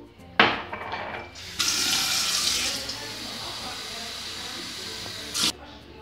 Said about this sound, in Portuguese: vou colocar água no copo